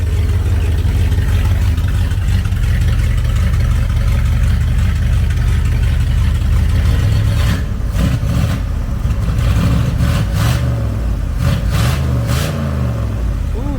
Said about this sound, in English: Truck's sitting here idling on choke.